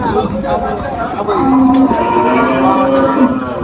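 Cattle low loudly at a busy cattle market in Faridpur, Bangladesh, where trucks are unloading animals; several drawn-out moos overlap near and far over a steady crowd murmur.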